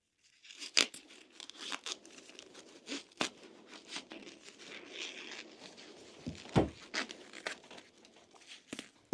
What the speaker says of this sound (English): take the shears, cut it open, all the way